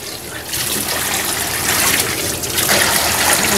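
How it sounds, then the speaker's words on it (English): Tap water runs steadily in a kitchen while a turkey is rinsed under it, a continuous close splashing gush with slight shifts in flow as the bird is moved. "Gonna wash the turkey off."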